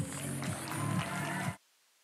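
An audience claps at a community goodwill event, a steady dense patter of applause that holds for about a second and a half and then cuts off abruptly to silence.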